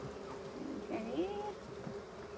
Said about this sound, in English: I'm going to cover these bees up so they can start calming down